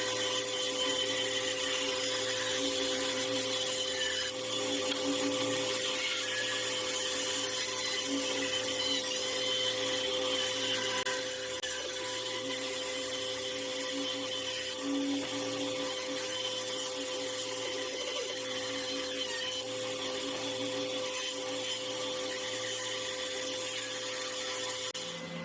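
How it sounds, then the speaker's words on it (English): Bandsaw cutting a wooden electric guitar blank, a steady loud whine and rumble that runs continuously for the whole stretch with no talk. "So I'll cut that out on the bandsaw."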